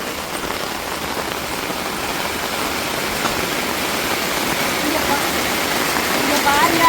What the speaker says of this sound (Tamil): நல்ல மழை எங்கள் ஊரில்